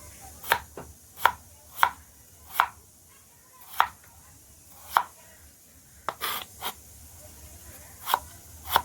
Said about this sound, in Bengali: এগুলো কি বড় বড় কাটিং হবে না ছোট ছোট?